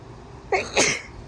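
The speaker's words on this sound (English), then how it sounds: "Something is making me sneeze." One quick, sharp sneeze, close by, rising from a short intake into a burst against a quiet background.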